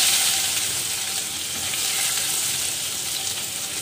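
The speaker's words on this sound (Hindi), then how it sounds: "प्याज को अच्छे से सॉर्ट करेंगे" Onion sautéing in ghee with cumin for moong dal tadka, a loud, continuous close-up sizzle with a bright hiss that holds steady throughout.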